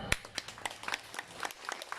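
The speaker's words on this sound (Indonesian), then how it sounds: "Tepuk tangan dong" Applause from a gathered crowd at a Hindu temple piodalan ceremony in Banyuwangi, heard as scattered, moderately faint clapping with uneven bursts over about two seconds.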